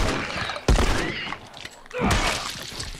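A sharp, loud burst of gunfire in The Last of Us cuts in, followed by a rumbling second volley, with busy game noise and chatter around it.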